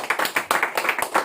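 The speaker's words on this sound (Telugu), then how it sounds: "గట్టిగా చప్పట్లు కొడదాం." A church congregation claps loudly during a pastor's sermon. Quick, crisp, rhythmic claps come about six to eight times a second in a brief, energetic burst.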